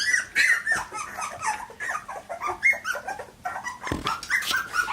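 Three-week-old Aussie Poo puppies whimpering and squeaking while they nurse from their mother, a close, busy chorus of high yips, whines and small growls running throughout.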